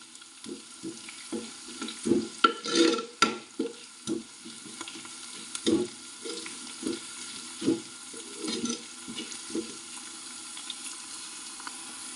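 Green chillies sautéing in a pan for a coconut-free yogurt curry: a soft, steady sizzle broken by irregular scraping and tapping stirs, close and fairly quiet, with no talking.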